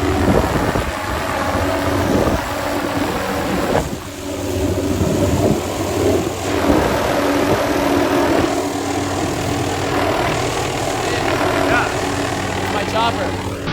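A helicopter's engine and rotor drone steadily and loudly over a disaster area in North Carolina, with a voice talking over the continuous roar.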